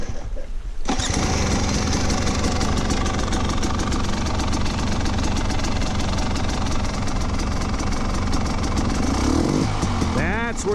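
A 2019 KTM 300 XC-W TPI two-stroke dirt bike engine fires up and runs, with a buzzy, crackling exhaust note held at a fast idle and revved, loud and close, ending with a rising throttle blip.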